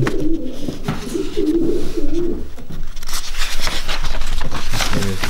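A pigeon coos in soft, repeated low rolls close by, fading into rustling and shuffling noises.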